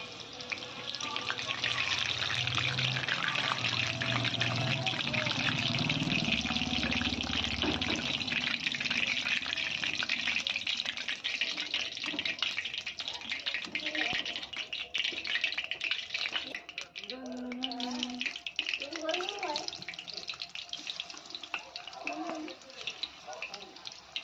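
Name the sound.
chicken frying in a pan for chilli chicken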